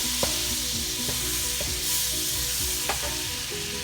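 Butter melts in a hot pan over high heat with a steady, bright sizzle throughout, broken by a few soft clinks and scrapes of stirring, close and fairly loud with no talking.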